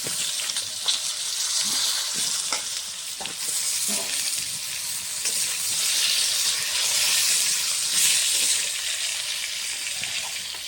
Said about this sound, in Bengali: আলুটা দিয়ে আলুটা কষিয়ে নেব ভালো করে।